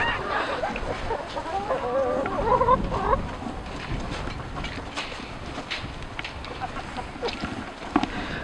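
Chickens cluck in a small coop outdoors, a short burst of clucking calls early on, then scattered quieter clucks over a steady background of ambient noise.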